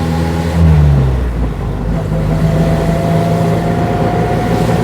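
An NSU Prinz 4 small rear-engined car is driving along, its engine holding a steady droning hum with a brief rise early on, heard from inside the cabin without talk.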